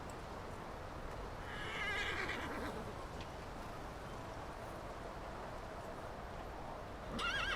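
A horse whinnies twice, a clear, quavering neigh near the middle and another at the end, over a soft outdoor background with faint hoof movement.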